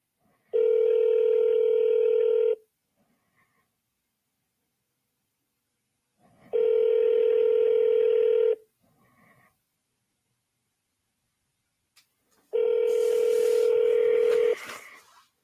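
A telephone tone sounds three times, each a steady, loud two-second beep separated by about four seconds of silence, with faint rustling after the last tone, as on a forwarded call reaching voicemail.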